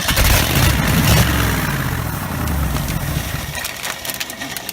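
A 1969 Ford F250 engine starting and running after sitting 11 years, with a loud, low, rough rumble that is strongest at the start and then settles into an uneven, sputtering idle, heard up close.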